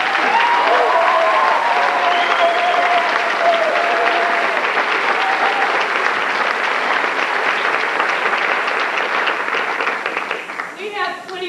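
A large audience at a high school band concert applauds steadily for about ten seconds, dense clapping that fades as a voice starts speaking near the end.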